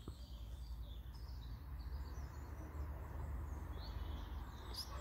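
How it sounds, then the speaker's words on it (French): Soft bird chirps and calls over a steady low rumble, distant and faint, with a continuous outdoor background. "je sais pas si vous entendez tous ces oiseaux"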